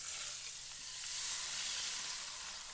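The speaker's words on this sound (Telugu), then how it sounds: "ఈ పోపుని దీంట్లో వంపేసుకోవాలండి" Loud, continuous sizzling and crackling of hot oil tempering poured into tomato rasam, close and steady for the whole moment, with no talking.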